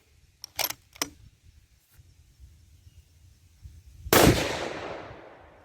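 A single loud, sharp rifle shot from a pillar-bedded Mossberg Patriot Predator, cracking outdoors and decaying over about a second, preceded by a few faint handling clicks.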